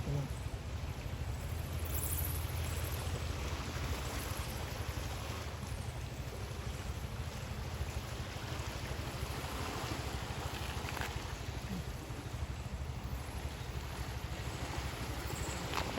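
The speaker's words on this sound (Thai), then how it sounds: "น้ำไหลเชี่ยว" Water rushing through the eight open gates of the Yasothon–Nong Hoi dam, a steady, loud roar of churning flow, continuous and unbroken throughout.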